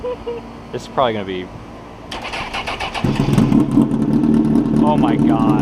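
A Honda CBR motorcycle with a loud Toast exhaust and its baffles removed fires up and settles into a loud, steady rumbling idle for the last few seconds, with people talking excitedly before and over it.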